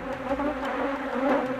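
Swarm of Africanized killer bees in the air, a dense close buzzing drone that swells and dips slightly in loudness, loud and continuous with no voices.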